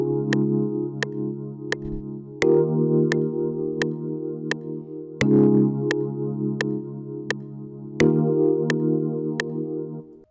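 Gospel chords with added fifth and sixth notes played on a keyboard beat, four sustained chords changing every few seconds over a steady ticking click, alone with no talking.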